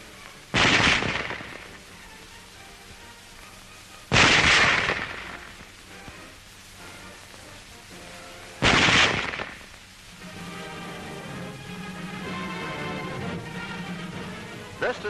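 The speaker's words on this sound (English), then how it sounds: "Loading and firing the Model 98K is the same as our own Springfield, with the exception of the sight adjustment." Three loud, sharp rifle shots from a German Model 98K bolt-action rifle ring out at roughly four-second intervals, each followed by a brief echoing decay, with a low steady hum of background noise between them.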